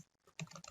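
Typing on a computer keyboard, a short burst of several quick, close key clicks following a brief pause.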